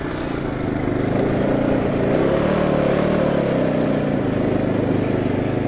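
Suzuki LTZ 400 ATV engine droning steadily and loud up close while riding across a snowy field, a continuous motor rumble with no talk over it.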